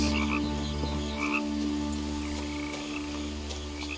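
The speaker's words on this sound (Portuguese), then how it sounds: "Barulho de sapo, mas eu não vejo sapos." Frogs croak in the video game What Remains of Edith Finch, a few faint, raspy croaks repeating irregularly over a steady low ambient hum.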